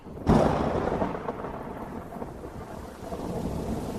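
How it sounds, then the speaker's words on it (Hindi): Thunderstorm with rain in a horror story by a village pond: a loud thunder crack near the start rolls into a steady, heavy downpour that continues throughout with no talking. "अब ये क्या यार, तूफान कहाँ से आ गया?"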